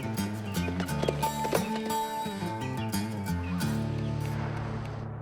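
Hooves of a dappled gray mare clop rhythmically during an Old English-style riding show performance. The steady footfalls sit under loud music.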